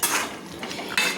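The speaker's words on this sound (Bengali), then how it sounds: "আমি একটু নেড়ে দেখাচ্ছি।" Utensil scraping and clinking in a pan while stirring a Bengali rui fish curry cooked with mustard and raw mango, close, short metallic strokes and a louder clatter near the end.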